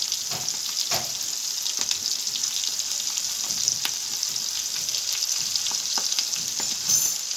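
A large batch of onions fries in oil for koshari, browning in a pan with a dense, even sizzle and a few faint stirring knocks throughout.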